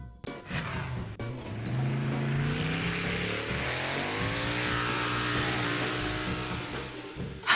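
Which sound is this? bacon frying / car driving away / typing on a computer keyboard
car driving away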